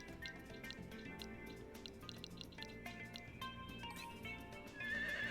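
A horse whinnies amid soft clip-clop and dripping game effects in Harvest Moon: Light of Hope, the calls moderately loud over a steady ambient backdrop.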